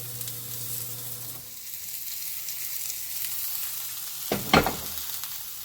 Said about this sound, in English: So the steak, I'm going to let that continue cooking for about 7 minutes